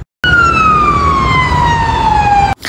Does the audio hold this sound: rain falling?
no